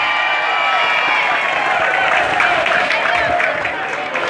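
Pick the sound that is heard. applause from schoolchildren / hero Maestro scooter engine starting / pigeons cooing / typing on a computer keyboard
applause from schoolchildren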